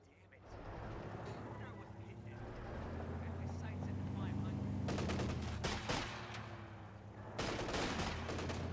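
Rounds striking a Kubelwagen in the video game Company of Heroes 2: bursts of gunfire rattle in clustered volleys over a steady engine-like rumble, with a caster talking throughout.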